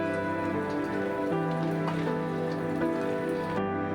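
Eggs fry in hot oil in a pan for an egg chorchori dish, bubbling with a dense, continuous crackle and sizzle heard up close and alone.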